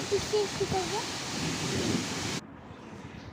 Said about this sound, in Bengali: দেখো বৃষ্টিটা একটু কমে এসেছে